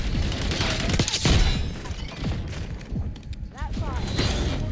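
Gunfire in the video game Black Ops 6 during a Face Off Moshpit match: dense, continuous rattling bursts and booms mixed with mechanical clanks and game sound effects, loud throughout.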